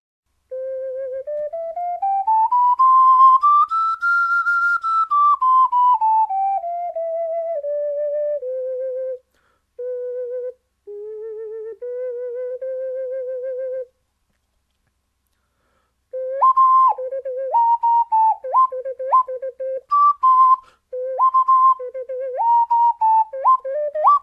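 Ocarina played solo, close and clear: a pure, breathy tone sliding up and back down in a long phrase, then brief held notes, then a quicker run of short stepped notes after a pause.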